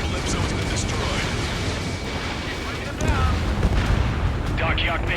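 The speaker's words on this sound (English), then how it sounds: "Dockyard Bay taking damage from airstrikes." Heavy rumbling blasts from airstrikes hitting a dockyard in Ace Combat 7, a continuous roaring wash of explosions that swells louder toward the end, with a voice speaking over it.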